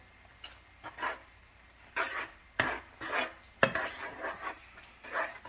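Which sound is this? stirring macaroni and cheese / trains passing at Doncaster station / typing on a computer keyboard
stirring macaroni and cheese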